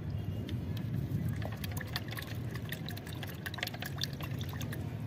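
Liquid fertilizer stirred into water for transplanting vegetable saplings, a steady close swishing and trickling of liquid with faint light splashes throughout.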